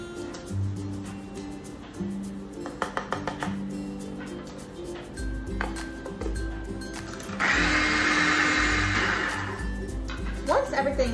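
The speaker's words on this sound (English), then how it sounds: "Blend a bit and then scrape to make sure everything gets combined very evenly." A blender mixes powdered sugar and milk powder for a milk chocolate bar, running in uneven bursts with clattering pulses, then a louder sustained whir near the end; a voice talks over much of it.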